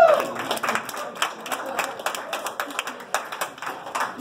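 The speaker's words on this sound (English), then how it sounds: "even the white people are clapping" Comedy club audience clapping in a round of applause, uneven distinct claps from a modest crowd, fairly close and lively, with a brief voice at the start.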